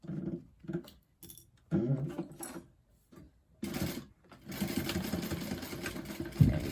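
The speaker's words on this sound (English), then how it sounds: "you're sewing a 1/2 inch in from the fold and you're just sewing over the area of the seam" Sewing machine stitching a seam on a Perigee bag: short separate bursts of stitching at first, then a longer steady run of close, busy motor clatter.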